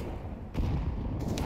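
Grenade thrown and exploding in a tactical shooter video game, a loud low thud at mid-clip over a continuous rumbling gunfire-like background.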